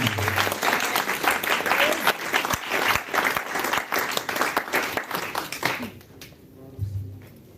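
A church congregation applauds loudly and steadily, a dense wash of many clapping hands that fades toward the end, with voices mixed in.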